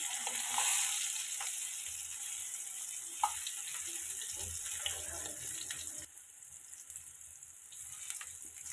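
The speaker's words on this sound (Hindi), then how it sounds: "इसी तरह से उलट पुलट करके हम चारों तरफ से इसको फ्राई करेंगे" Stuffed bitter gourd frying in a pan gives a quiet, continuous sizzle with occasional light clinks as it is turned, close by and steady throughout.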